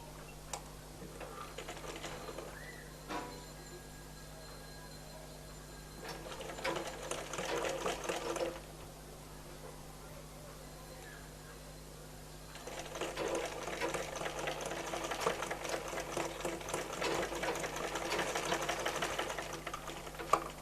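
A sewing machine runs in several bursts while stitching baby frock fabric, with steady rapid needle ticking that grows louder and denser in the later stretch and brief quiet pauses between runs.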